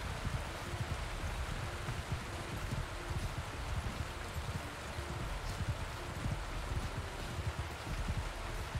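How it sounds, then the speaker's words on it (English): Heavy rain falling in a medieval war video game, a steady dense hiss with soft patter on surfaces, fairly faint and continuous with no voices. "Oh, man, look at this heavy rain."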